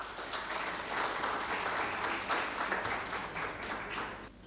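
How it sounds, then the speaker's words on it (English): An audience at a patient safety conference keynote session applauds to welcome a speaker, with sustained, even clapping that stays full before dropping off sharply at the end. "Let's welcome him with a big round of applause."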